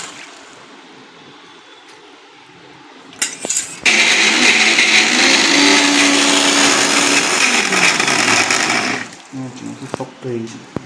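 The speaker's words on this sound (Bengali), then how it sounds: "এটা আরও ফাইন ব্লেন্ড করতে হবে" A kitchen blender grinds a thick food paste for a lunchbox meal, a loud steady whirring for about five seconds, then stops, with faint clatter on either side.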